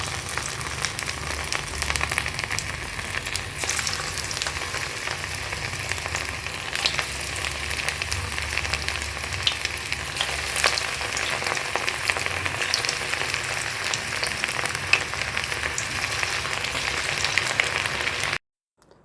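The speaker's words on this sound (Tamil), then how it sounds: "பொரிச்சு எடுத்துக்கலாம்." Cauliflower pakoda deep frying in hot oil, a steady dense crackling sizzle running without pause for the whole stretch before cutting off abruptly at the end.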